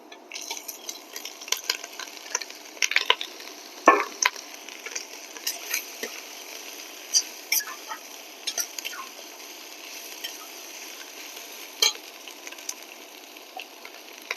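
Chopped carrots and browned onions fry in a pan while being stirred, a steady soft sizzle broken by frequent scraping clinks of the spoon against the pan, close and moderately loud with no talking.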